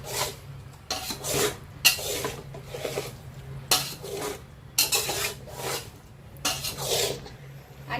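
Mixed vegetables sautéed in a pan with biryani masala for dum veg biryani: repeated rasping, scraping strokes of a spatula against the pan, steady and close, about one stroke per second with brief gaps.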